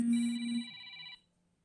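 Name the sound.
phone ringing, incoming call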